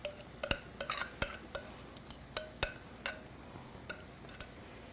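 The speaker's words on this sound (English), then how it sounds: "We're going to stir this one more time." A utensil stirs apple crisp batter in a bowl, giving a quiet scraping swish punctuated by a dozen or so sharp clinks against the bowl in an uneven rhythm, heard close and alone.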